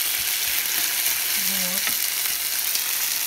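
Potatoes with leek fry in a pan with a loud, steady sizzle that fills the whole stretch, and someone says a brief word over it.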